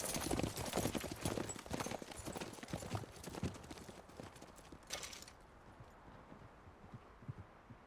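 Horses ridden off at speed in Red Dead Redemption 2, with a dense, close clatter of hooves on the ground that fades to quieter, sparser steps toward the end.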